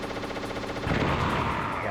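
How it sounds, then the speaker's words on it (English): An explosion booms in the PC version of Metal Gear Solid, a dense roaring blast that swells over an ongoing game hum and fills the space for about a second. "making sure I wait for the explosions"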